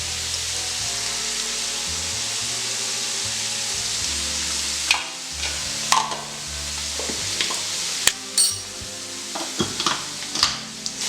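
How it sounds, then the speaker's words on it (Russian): Ground cumin and black pepper being stirred into Bukharian Jewish plov in a kazan: a continuous oily sizzle, then several scraping stirs and clunks of the spoon against the pot, close and loud. "И сразу же перемешиваем."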